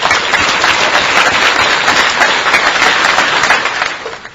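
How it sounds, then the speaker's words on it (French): An audience in a hall bursts into loud, dense applause that holds steady across the room for several seconds before starting to thin out toward the end. "donc ça mérite qu'on les applaudisse"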